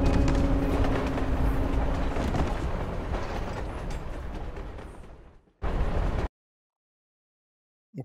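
A moving train in Life is Strange: Before the Storm gives a steady loud rumble and clatter that fades out, then a short burst of train noise before silence.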